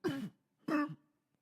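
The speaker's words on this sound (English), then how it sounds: "He drops the fork and begins to cough and convulse slightly." Two short, rough coughs from a man convulsing slightly, separated by a brief pause, fairly quiet and close.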